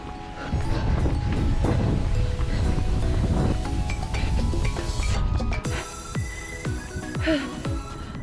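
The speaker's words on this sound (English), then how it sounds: "It's quite windy today, I don't know how well you can hear me." Gusty wind buffets the microphone with low rumbling bursts during an outdoor run, loud and close, easing off toward the end as other faint outdoor sounds come through.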